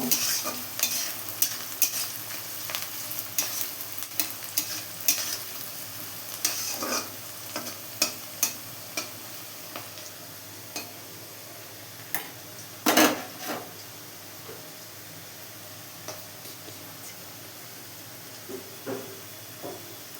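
Onion, capsicum and carrot stir-fried in a pan to brown them, a steady sizzle broken by repeated scraping and clinking of a spatula against the metal, louder bursts early on and one sharp knock midway.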